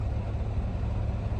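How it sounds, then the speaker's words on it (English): A new semi truck on a freight yard gives off a steady, loud low engine drone and rumble with no talk over it. "I don't know why these new trucks make all this noise,"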